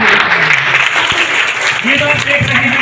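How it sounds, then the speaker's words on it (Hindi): Loud, dense applause from an audience at a youth parliament event in a village, steady throughout with voices mixed in. "जोरदार तालियां और आभार"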